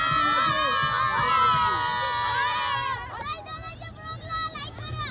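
Kids cheer and celebrate at a 26th January friendship cup cricket match between Kalyan Bhoiwada and Bhiwandi Bhoiwada. A dense, loud wall of high-pitched shouting and whooping holds for about three seconds, then thins into scattered, quieter yells.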